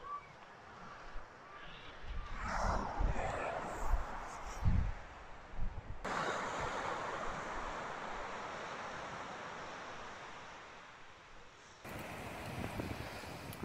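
Waves wash onto the beach at Port Jackson on the Coromandel, a broad steady surf roar blended with gusts of wind buffeting the microphone, with some louder low thumps early on and no talking.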